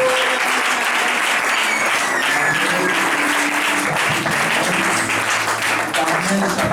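A church congregation applauds in a steady, dense wave of clapping that fills the room, loud and close throughout.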